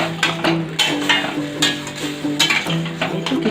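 Potato manchurian cooking in a pan, with repeated stirring scrapes and short sizzling bursts coming in an uneven rhythm, close and fairly loud, with no talking.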